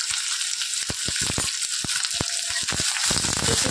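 Curry leaves and chopped onions sautéing in a pan, a steady bright sizzle with intermittent crackles and pops close up.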